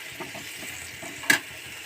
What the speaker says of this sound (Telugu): అందుకోసం ఇవి ఫ్రై చేద్దాం